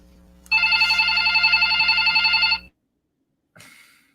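A landline telephone bell rings loudly and nearby in one sustained two-second trill, then falls silent before a brief partial second ring starts.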